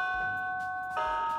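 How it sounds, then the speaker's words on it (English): An electronic doorbell chimes twice, a sustained tone then a second ring, over a quiet room background. "Oh, doorbell."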